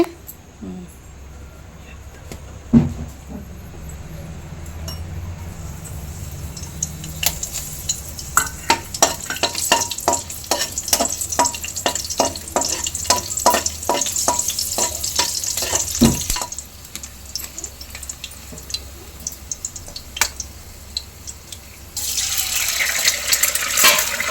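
Fried rice is stir-fried in a pan, giving a steady sizzle with a run of regular scraping strokes from the middle of the clip onward, and a voice speaks briefly near the start.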